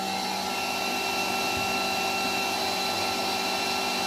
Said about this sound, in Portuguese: Tanquinho tornou a ligar.